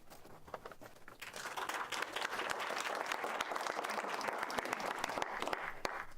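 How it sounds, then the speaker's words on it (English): Sustained audience applause at a Sarasota County School Board meeting, starting lighter and swelling after the first second into a dense, steady wash of many hands clapping, fairly close and loud, with no talking over it. "Please hold your applause until the end."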